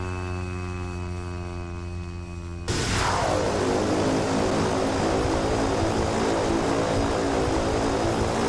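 Cessna Caravan turboprop in X-Plane 10 taxiing, a tonal engine whine that abruptly gives way to a loud, steady broadband propeller roar with a constant hum underneath.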